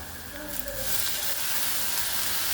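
Washed chickpea greens hit a hot pan of sautéed seasoning and burst into loud, steady sizzling and hissing frying, rising sharply about a second in and continuing close up.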